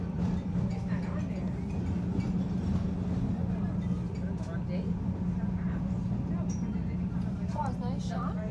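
Steady low rumble of a moving Chicago metro train carriage fills the whole stretch, with faint clinks and rattles on top and no talking.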